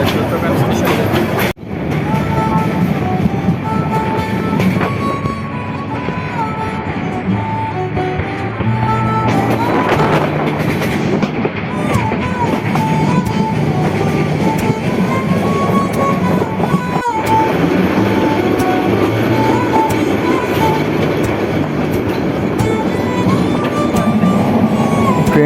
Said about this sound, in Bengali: আমাদের ট্রেনটা একটা বিশেষ প্ল্যানিংয়ের মাধ্যমে বিমানবন্দরটি ছেড়ে দিল। এটা হচ্ছে ননস্টপ ট্রেন